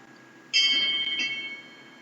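A phone ringtone imitating a buoy bell rings twice in quick succession, bright metallic tones with a lingering ring, fairly close over a quiet background.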